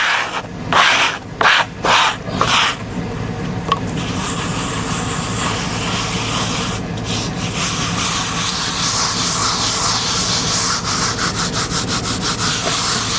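Concrete slurry being rubbed into a concrete countertop: a few separate scraping strokes at first, then a steady, close, continuous gritty rubbing with no voices.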